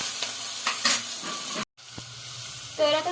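Tomatoes are stirred into a sizzling masala of ginger and garlic frying in a pan, a close, steady hiss broken by scraping stirs and a brief cut.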